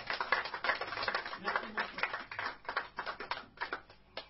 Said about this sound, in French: Applaudissons le roi des rois.